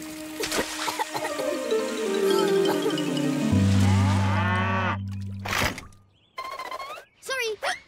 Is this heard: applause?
no